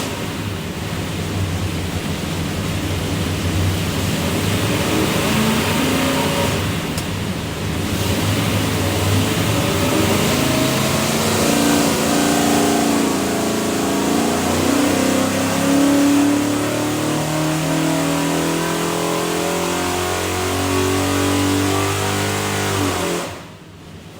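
A 427ci Ford FE V8 built for a 1965 Cobra revving on a dyno, a loud sustained roar rising in pitch through a long pull before cutting off sharply near the end.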